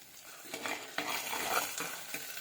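Tomato and shallot paste, ground with ginger and curry leaves, fries in coconut oil for a fish curry, giving a steady close sizzle broken by a few scraping stirs of a spoon against the pan.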